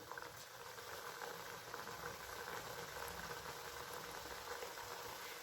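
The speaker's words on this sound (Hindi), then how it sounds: "इसके लिए कढ़ाई में हमने तेल गर्म होने के लिए रख दिया है और तेल अच्छे से गर्म हो चुका है। तो अब हम एक एक करके ये बिस्किट इसमें डाल देंगे" Wheat-flour biscuits fry in hot oil in a kadhai, a steady, soft, even bubbling sizzle heard close and alone.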